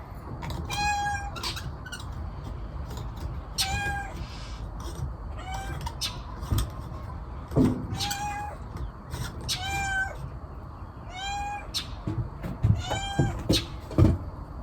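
A cat meows repeatedly, several drawn-out, fairly loud calls spaced a second or two apart, over a low background rumble.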